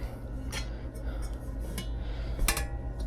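Compact nested cookware with a non-stick coating is handled, giving a few sharp metallic clinks and clatters of pots knocking together against a quiet room background.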